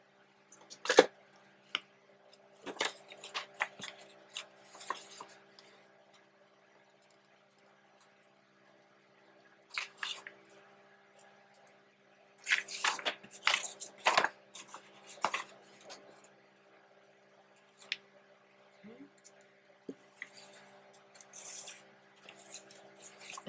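Scissors snip through journal paper in a few short bursts of crisp cuts separated by quiet pauses, close and fairly soft, with no talking.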